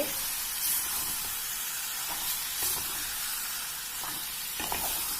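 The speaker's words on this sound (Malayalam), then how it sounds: "ചിക്കൻ ഇതിലേക്ക് ആഡ് ചെയ്യാം. ഇതൊന്ന് നല്ലോണം ഒന്ന് മിക്സ് ചെയ്യാം." Chicken stirred into masala frying in a pan, a loud, constant hiss and sizzle with soft scraping strokes of a spoon mixing through it, close up and with no speech.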